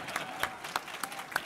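Audience applause at a presidential dinner event, an even clapping texture with a few louder individual claps standing out at moderate level.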